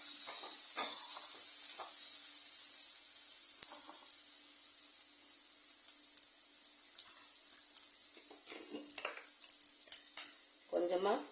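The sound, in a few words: onions frying in oil with fennel seeds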